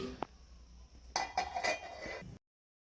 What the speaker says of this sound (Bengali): এবারে আবারও ঢাকনা দিয়ে দেব।